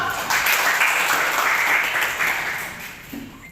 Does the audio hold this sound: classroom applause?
yes